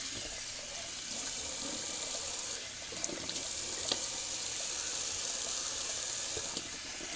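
Cold water runs steadily from a bathroom sink tap, a constant close hiss and splash with a few small clicks, and no talking.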